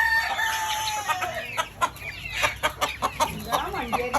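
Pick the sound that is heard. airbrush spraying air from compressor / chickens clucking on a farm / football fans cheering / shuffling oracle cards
chickens clucking on a farm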